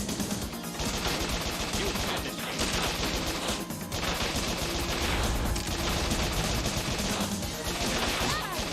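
Gunfire and grenade blasts from the video game Bot Vice, loud rapid bursts of shots in repeated volleys with crashing explosions, dense and continuous with brief gaps between.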